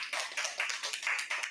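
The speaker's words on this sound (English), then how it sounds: "Please give a round of applause for Joey in the booth" Claps sound from a small audience at a queer-themed comedy night in a bar, fairly faint, in a sparse, uneven rhythm.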